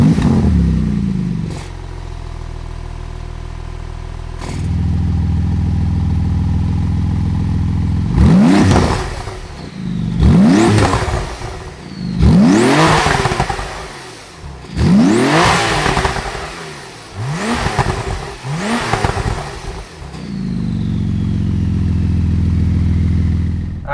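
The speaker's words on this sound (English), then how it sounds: "Let's fire up this GT2 RS and hear what it sounds like." A Porsche 911 GT2 RS starts up loud and close, then settles to a rumbling idle. Five or six sharp, rising throttle blips follow, each one dropping back, before the engine settles into a steady idle again.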